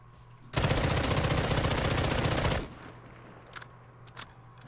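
Assault rifle fired in Call of Duty Modern Warfare: a loud, continuous automatic burst of about two seconds, followed by a few faint, scattered shots and quiet background ambience.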